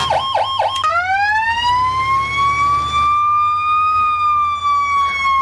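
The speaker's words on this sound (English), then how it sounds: "it does have a bunch of different sirens to it" Emergency vehicle siren in the Emergency Response video game, a rapid warbling yelp that switches to a long rising and slowly sweeping wail, loud and up front with no voices.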